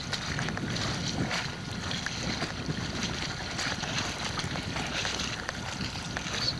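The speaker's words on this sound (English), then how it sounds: "when you're listening to ice on the water" Arctic sea ice floats on the water beside a kayak near Arctic Bay, Nunavut, with a slight channel of water alongside, giving a continuous soft wash with scattered small ticks and crackles, close and unbroken by voices.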